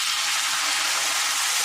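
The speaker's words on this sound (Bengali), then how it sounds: "একটু জল দিয়ে কষাবো মশলাটা" Spice masala cooking in a pan just after water is added, a dense, even hiss of bubbling and sizzling heard up close with no voices.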